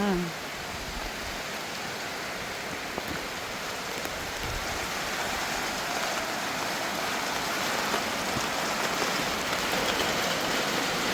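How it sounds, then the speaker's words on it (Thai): Rain falls steadily around a rural house, a broad even hiss of drops on surfaces that holds at the same level throughout, fairly close and with no clear voices over it. "ฝนมาแล้วฝนมาเลย"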